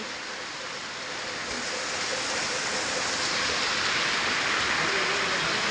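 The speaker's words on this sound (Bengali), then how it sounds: "ঝমঝম করে বৃষ্টি হচ্ছে" Heavy rain pours down in a dense, unbroken roar that grows slightly louder over several seconds, with no voices.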